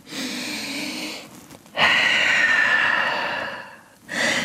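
A deep, audible breath during a vinyasa yoga session: one long inhale and a long exhale heard up close, followed by the start of another breath.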